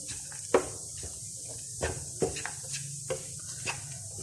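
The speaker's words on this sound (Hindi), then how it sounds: "तो ये तमाम नट्स जो मैंने फ्राई किए थे ये डाल देंगे और इसको मिक्स करेंगे" A spoon stirs fried nuts into thick makhadi halwa in a pan, giving soft scraping strokes at an uneven pace with faint sizzle between them, quiet and close.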